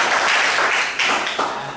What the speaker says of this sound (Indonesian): Tepuk tangan dong buat saya kasih.